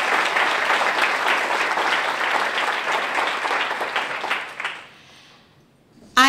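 Symposium audience in a hall applauds members of a planning committee, a dense, steady burst of many hands that carries for several seconds, then fades quickly to near silence before a sudden loud noise at the very end.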